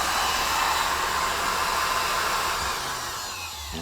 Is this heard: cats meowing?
no